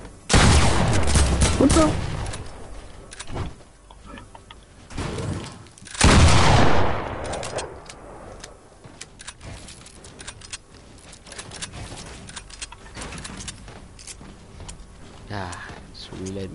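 Bursts of video game gunfire crack out loudly in two heavy volleys, with scattered quieter shots between them, while a person talks over the action.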